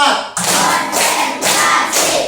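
A class of fifth-grade pupils claps in unison during a counted clap routine, several sharp group claps in a steady rhythm, loud and close in a classroom.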